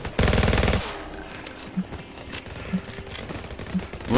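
Gunfire in the VR shooter Alvo opens with a dense, loud automatic burst, then thins into scattered distant shots and clatter over a low background rumble.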